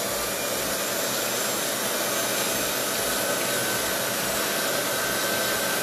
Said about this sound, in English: I'm going to just hit this with the heat gun real fast